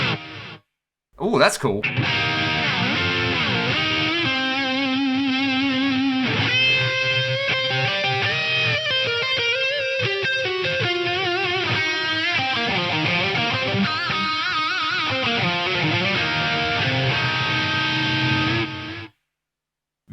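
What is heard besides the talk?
guitar distortion program on Digitech DSP128 rack effects unit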